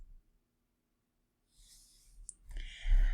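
A single quiet mouse click on a Save and Continue button, a brief tick in near silence followed by soft rustling and breath.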